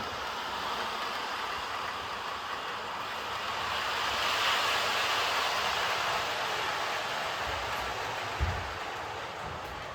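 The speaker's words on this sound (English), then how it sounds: "So we'll move the train along. It's going to get loud now" A steady rushing rumble of a small Irish model railway train rolling along its layout track, swelling slightly in the middle, with a faint click near the end.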